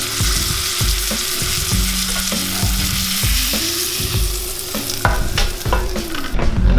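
Chicken pieces fry in a hot pan with a continuous loud sizzle, broken by repeated clinks and scrapes as the pieces are stirred and turned.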